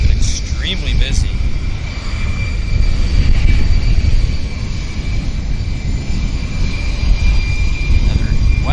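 A WestJet Boeing 737-700 turns onto the active runway at Vancouver airport, its jet engines a steady, loud broadband roar with whining tones that persists throughout, unchanging and close.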